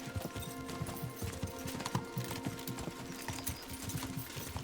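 Horse hooves galloping in the video game Kingdom Come Deliverance 2, a fast, steady clip-clop rhythm that runs throughout, moderately loud over faint ambient game sound.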